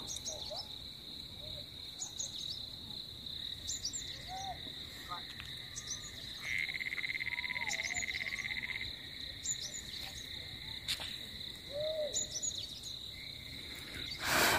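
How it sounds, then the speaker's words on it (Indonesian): Frogs croak in scattered bursts over a steady high insect drone on Mount Rinjani, Lombok, with piercing cicada buzzes swelling and fading, and occasional bird chirps in the distance. "bunyi-bunyi kodok, tonggeret, segala macam"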